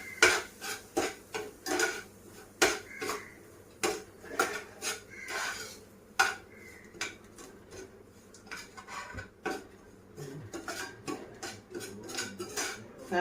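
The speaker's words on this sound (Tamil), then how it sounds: "அதே நெய்யை வச்சு நம்ம ஒரு டம்ளர் ரவையை நல்லா வறுத்து எடுத்துக்கிறோம்." A spoon clinks and scrapes against a pan in irregular bursts while one tumbler of semolina roasts in ghee, with quiet gaps between the stirring strokes.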